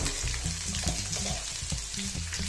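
Crushed garlic fries in hot oil with bay leaf and dried red chilli for rajma, a busy close sizzle with scraping stirring sounds throughout and no speech.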